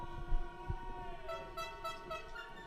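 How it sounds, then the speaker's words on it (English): A steady, droning air horn tone with rich harmonics sounds continuously throughout, slightly wavering as it runs out, with low thumps underneath, at the Ice Climbing World Championships lead semi-finals. "Sounds like the air horn might be running out"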